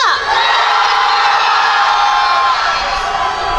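Concert crowd at a university festival performance screaming and cheering loudly and continuously, a dense sustained roar of many voices that dips slightly near the end.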